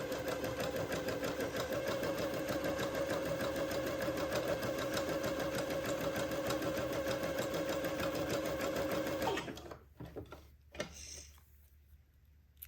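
A sewing machine runs a zigzag stitch on Swiss batiste for a Christmas dress, a steady close mechanical whir with rapid ticking that carries on for about nine seconds, then stops, leaving faint handling noises.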